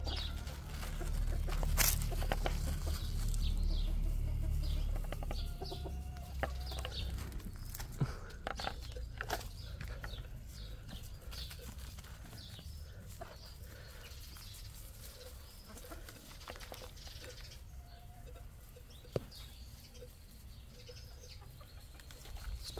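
A rooster and hens cluck and call softly while someone waters them with a watering can, their intermittent clucks heard over a low, steady background rush.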